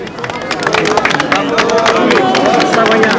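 Crowd greeting the French President near Caen, with lively chatter, scattered clapping and cheers close by, and voices mixed throughout the hubbub.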